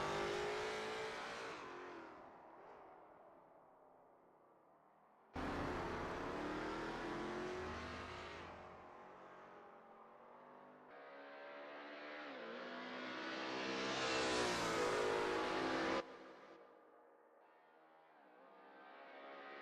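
Lola T70 MkII Spyder race car engine at Spa in a racing video game, revving up and down through several gear changes, loud and close with sharp cuts between passes and a rising high-revving pull.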